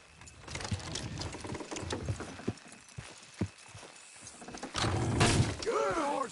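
Horses' hooves clip-clopping in a video game, a run of hollow thuds at an uneven trotting pace, moderately close, with a louder swell of movement and creaking near the end.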